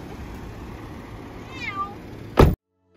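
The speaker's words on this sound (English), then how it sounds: "And our two cats, Grace and Peach." A pet cat meows once in a short, rising-then-falling call at moderate distance, followed by a brief louder thump just before the sound cuts off.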